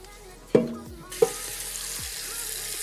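Tap water rushes steadily into a cooking pot in a home kitchen, a constant hiss after a couple of clinks and knocks from the pot being set in place.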